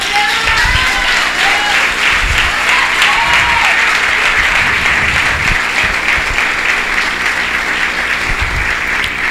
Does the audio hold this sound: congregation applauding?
yes